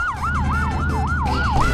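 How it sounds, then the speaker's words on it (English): An ambulance siren inside the video game Chicken Gun, a loud wailing tone that rises and falls in a regular repeating cycle, close and continuous with no talk. "Ambulance."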